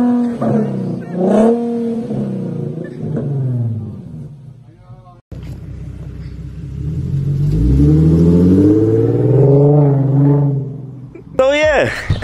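An Infiniti Q50 fitted with a Remark exhaust revs up and down close by, a loud, throaty engine note rising and falling in several pulls, then one long climbing rev.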